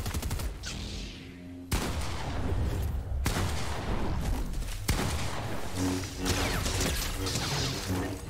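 Bursts of gunfire in a Fortnite match, dense cracks and rattling shots from several weapons, loud and close, with sharp breaks between volleys.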